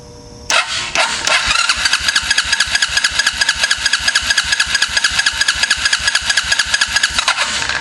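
A Suzuki Ozark ATV engine cranks over with a steady, rapid rhythmic chugging from the starter, loud and close, continuing for several seconds without catching, with no talk over it.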